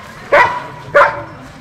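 Two loud, close sled dog barks about half a second apart at a kennel in Denali National Park, Alaska, with quiet background in between.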